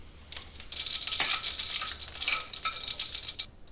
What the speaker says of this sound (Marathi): मोहरी व जिरे तडतडल्यावर